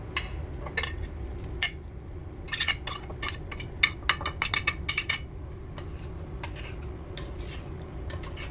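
Browned meat for Texas chili tipped back into the pot and stirred, with a busy run of metallic clinks and scrapes of a spoon against the pot over a steady low rumble, densest in the middle.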